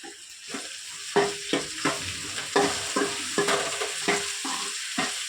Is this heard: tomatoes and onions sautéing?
yes